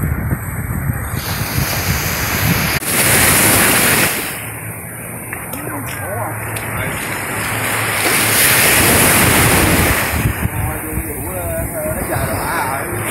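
Surf rolls in at An Bàng beach in Hội An, Vietnam, in April. Steady washing waves blend with heavy wind buffeting the microphone, and faint voices may be mixed in.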